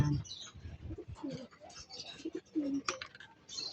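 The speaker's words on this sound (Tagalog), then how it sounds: "Yung mga kalapati natin nasa loob na, no?" Racing pigeons inside their loft give soft, close cooing calls, low throaty murmurs repeating irregularly over a quiet background with faint shuffling.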